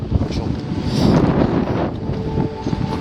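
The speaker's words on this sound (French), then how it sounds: "Rafale de vent ici par contre." A gust of wind near Lac Blanc, a loud rushing buffet against the microphone lasting a few seconds, rough and blustery, with no talk.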